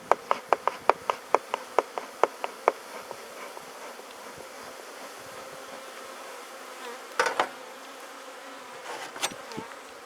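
Honeybees buzz at a week-old hive during an inspection, a soft steady drone under a run of sharp clicks and knocks early on, with a couple of louder rustling bursts later.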